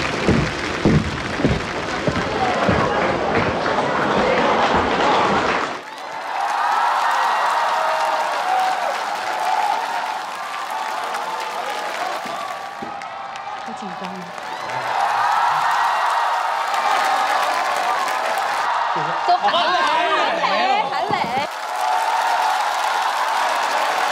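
A large studio audience at a Chinese singing competition show breaks into loud, sustained applause and cheering to welcome a singer onto the stage. The clapping fills the room in long waves, with brief dips and whoops along the way.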